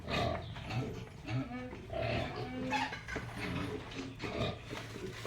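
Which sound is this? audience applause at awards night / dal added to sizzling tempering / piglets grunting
piglets grunting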